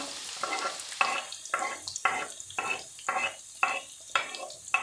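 Onions sizzle in hot lard while a utensil stirs in quick, regular scrapes, about two strokes a second, close by.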